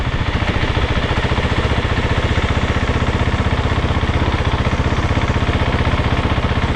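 A 2026 KTM 690 Enduro R single-cylinder engine thumps at low RPM under a light touch of throttle, a loud, close, steady pulsing rumble with no speech.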